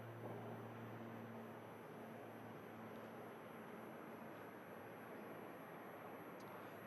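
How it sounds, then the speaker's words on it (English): An Aer Lingus ATR 72 turboprop airliner heading back to Dublin gives a steady, faint broadband roar with a low hum, distant and unbroken throughout. "Aer Lingus, ATR 72,"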